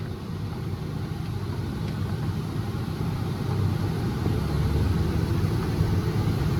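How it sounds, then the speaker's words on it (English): A tractor engine drones steadily while driving through a harvest field, a loud continuous low rumble that swells slightly partway through, with no talk. "Drive, tractor, drive"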